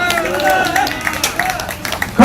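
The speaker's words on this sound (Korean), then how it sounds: "박수를 좀 치세요" Audience applause breaks out at a political speech, a broad wash of clapping from a crowd with a voice talking over it and a louder burst at the very end.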